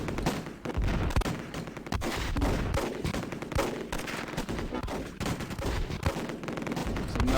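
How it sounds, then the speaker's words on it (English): Crossfire in the Close Combat video game: sustained, close gunfire with rapid bursts and single cracks overlapping one another for the whole stretch, with no talk over it. "There's crossfire here"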